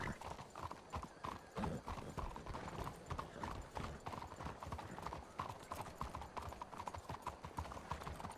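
Horse hooves clip-clop steadily in a western roleplay video game, a continuous close rhythm of hoof strikes at a brisk walk or trot. A faint whinny may sound partway through.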